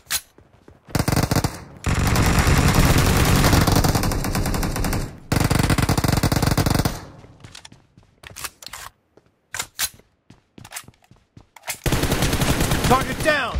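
Automatic gunfire in the mobile battle game PUBG Mobile during a team deathmatch, long loud bursts separated by short gaps and scattered single shots, close and sharp.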